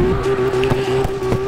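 Engine drone with a steady tonal whine and intermittent tyre squeal as a car drifts in the CarX drifting game, continuous and moderately close throughout.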